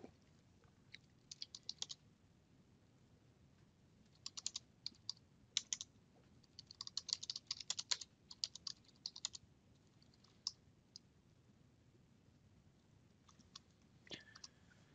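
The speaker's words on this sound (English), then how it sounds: "I can then just start typing" Intermittent bursts of typing on a computer keyboard, quick clusters of light key clicks separated by pauses, close and quiet.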